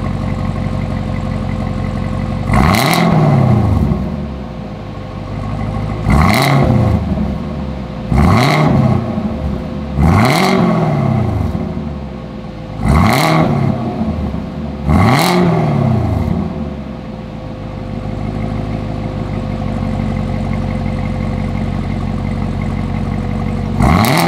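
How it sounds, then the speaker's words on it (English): A 2018 Chevrolet Camaro ZL1 V8 with its secondary catalytic converters deleted idles with a steady rumble, then gets six short blips of the throttle. Each blip rises quickly to a loud rev and falls back to idle. "let me give it some little baby revs and see what that sounds like also"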